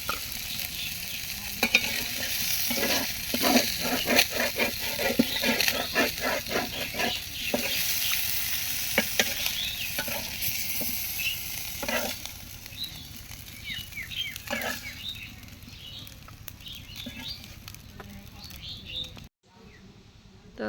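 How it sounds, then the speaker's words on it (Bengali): Broiler chicken pieces frying crisply in hot oil in a home kitchen, a steady close sizzle with stirring clatter and scraping across most of the span, then a sudden drop to near quiet at the end. "একদম মশমশা করে ভাজছে আর কি।"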